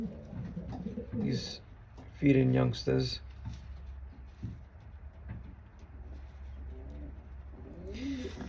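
A 2022 blue bar white flight racing pigeon cock coos close by, in a few low throaty bursts, while someone talks over and between the calls.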